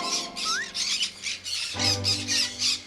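A green cheek conure parrot gives a rapid series of harsh, loud squawks in close bursts, about eight in quick succession.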